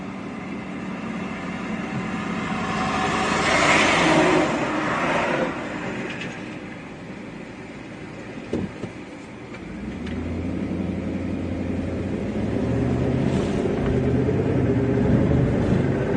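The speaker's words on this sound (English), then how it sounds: "Now I can hear his car coming" A car approaching on a road during storm chasing in Oklahoma or Kansas, a steady broad engine and tire rumble that swells around four to five seconds, eases, then builds again as it draws near.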